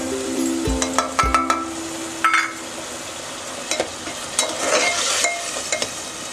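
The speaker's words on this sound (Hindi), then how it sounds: "अदरक लहसुन का पेस्ट भी डाल देंगे।" Ginger-garlic paste sizzles in a frying pan for restaurant-style matar paneer, with a continuous hiss, a few sharp spoon clinks against the pan and light stirring scrapes close by.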